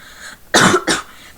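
Two loud, harsh coughs in quick succession, close up, after a moment of quiet room noise.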